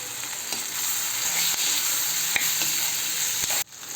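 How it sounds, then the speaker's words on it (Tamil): Chicken frying with onions and pepper powder in a pan gives a loud, continuous sizzle close up, with soft scraping ticks from stirring, until it cuts off abruptly near the end. "இப்போ நல்லா கிண்டி விடலாம்."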